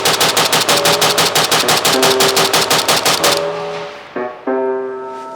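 Rapid, evenly spaced bursts of automatic fire from a cheap Polish AK rifle in a video game, loud and close for about three seconds, followed by a few ringing metallic tones as the shooting stops.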